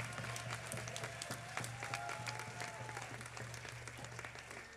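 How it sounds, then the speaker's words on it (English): Steady applause from a big band concert audience greeting a trumpet player coming on stage, dense continuous clapping filling the room with a low hum underneath. "can we have a huge round of applause?"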